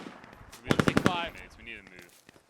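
Close-range gunfire bursts and frag grenade blasts in the military shooter game Squad, a rapid string of loud shots followed by quieter trailing combat noise.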